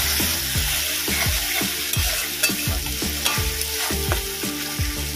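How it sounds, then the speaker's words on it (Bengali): Ginger-garlic paste fries in a pan for a Bengali aar fish curry, a steady hiss of oil broken by regular scraping strokes of a spatula, close and continuous with no voices. "আদা রসুনটা যতক্ষণ না কাঁচা গন্ধ যাচ্ছে ততক্ষণ পর্যন্ত ভেজে নেব"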